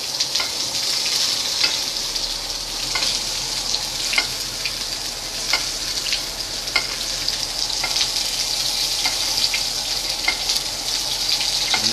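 Scallops sear in a hot pan with a steady, close sizzle while being basted, and faint intermittent clinks of a spoon tap against the pan throughout.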